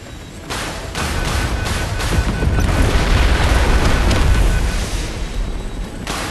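A tank cannon fires a sabot round in a modern tank battle video game: a loud, sustained booming roar that swells and rolls on for several seconds with no voices over it.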